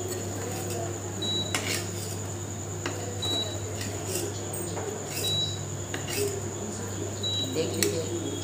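Metal utensils clink and scrape against a pan as fried arbi (taro) pieces are lifted out of the oil, sharp intermittent knocks over a steady kitchen hum, with a voice talking throughout.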